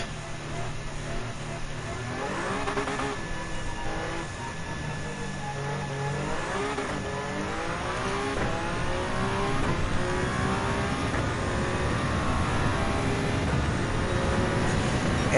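A Honda Civic race car engine in Gran Turismo 7 revs and climbs through the gears, its pitch sweeping up repeatedly as it accelerates. The engine tone stays moderate and steady, with faint game ambience beneath.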